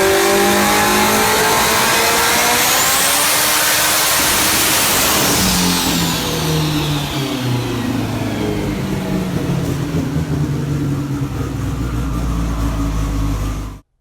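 An LS V8-engined car accelerating hard, engine note climbing loudly through the revs as it pulls away, then a second sweep of rising revs that holds strong before cutting off abruptly.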